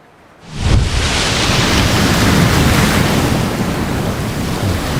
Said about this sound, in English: This game's so peaceful when you just stop and listen to the water.